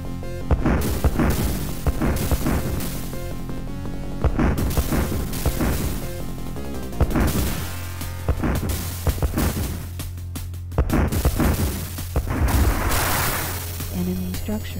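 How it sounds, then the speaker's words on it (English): Enemy structures exploding in Dune II, heavy booms and crashes repeating every second or two, loud and close, followed by a sustained low hum. "Enemy structure destroyed."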